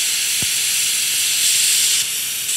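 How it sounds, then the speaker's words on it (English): Steam from a pressure cooker being vented as chicken stock is made, a steady loud broadband hiss lasting the whole moment, with a slight surge partway through and one faint low thump near the start. "This releases the steam."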